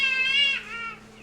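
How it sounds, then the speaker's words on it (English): A black-collared starling gives a strained, cat-like wailing call with rising and falling harmonic tones, close and clear for just over a second before trailing off. "With these scary bird sounds again. Black-collared starling."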